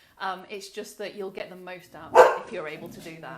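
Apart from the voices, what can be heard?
puppy dog barking in the background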